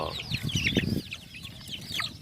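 Native chickens of fighting-cock bloodline cluck and chatter close by, with several overlapping calls and short clucks in quick succession, chicks peeping faintly in the background.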